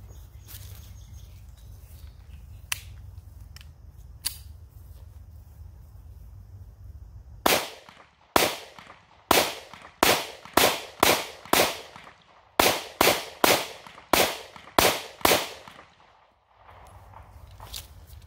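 A Taurus GX4 9mm pistol fires at a range in a rapid string of about a dozen sharp, loud shots, with two quick bursts and short pauses between them. Fainter distant pops and quiet background come before the burst.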